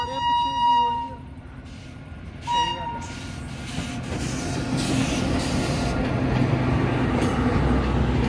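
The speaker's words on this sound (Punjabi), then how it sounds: "ਉਦੈਪੁਰ ਤੋਂ ਜੈਪੁਰ ਵਾਲੀ ਟ੍ਰੇਨ ਆ ਇਹ" An Udaipur to Jaipur passenger train arrives at a station, sounding two horn toots before its heavy rolling rumble and clatter build and carry on, with people's voices nearby.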